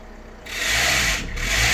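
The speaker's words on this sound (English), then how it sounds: "Yeah, so if I rev it up, it stops squealing." A Ford Mondeo engine is revved with a slipping drive belt, rising from a quiet idle into a sudden loud, close roar that briefly dips and then surges again.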